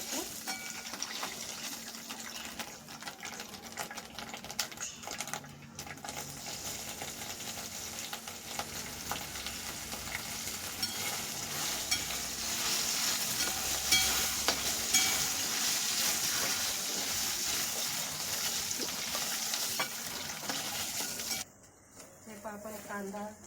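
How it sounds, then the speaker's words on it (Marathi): Paneer pieces fry in oil in a pan over a wood-fired clay chulha stove, a soft continuous sizzle with occasional stirring scrapes, fairly quiet, with a voice talking over it at times. "थोडं तळून घ्यायचं।"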